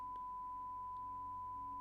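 A steady, pure electronic tone hums continuously at a fixed pitch, faint and unbroken, over a quiet low background hum.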